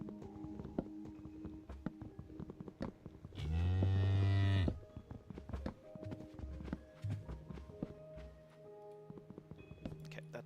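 Cows in the Minecraft video game, one loud drawn-out moo in the middle, with soft clip-clop and footstep sounds before and after.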